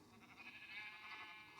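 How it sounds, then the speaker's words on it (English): Sheep in the Minecraft video game bleat in a short, wavering game-audio call, heard alone and fairly quiet. "Now he's getting some sheep in there."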